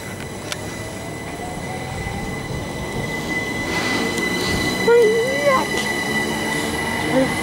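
Two Thameslink Class 387 Electrostar electric trains pull away from Hassocks station with a rising hum and rumble, wheels squealing faintly along the rails, heard from close by on the platform.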